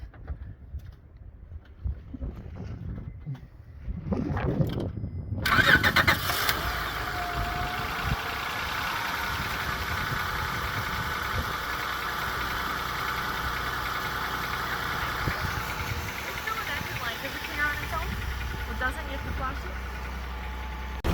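A 2004 Honda Accord engine cranks and catches, then settles into a steady, rumbling idle that runs continuously, with faint voices early on.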